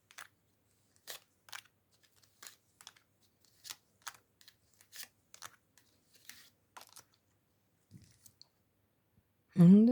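Light, crisp card snaps and flicks from shuffling and laying out cards repeat at an uneven pace in a quiet room, ending with a brief voice.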